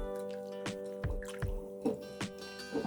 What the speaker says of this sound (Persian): و بعد اینکه لوبیا رو ریختم تو آبکش سری میزمش داخل مخلوط آب یخ و کمی هم میزنم.